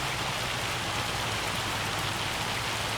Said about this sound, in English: the rain doesn't want to stop though